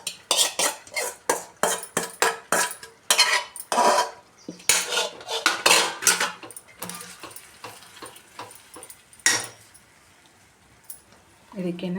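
Roasted sprouted beans tipped into a pan and stirred, with dense clattering scrapes and clinks of a metal spoon against the pan in quick irregular bursts, close and loud, fading to quiet pauses near the end.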